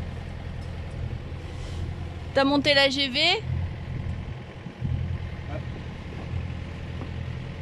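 Sailboat engines drone low and steady on a windless day at sea, a constant rumble under brief speech and background voices.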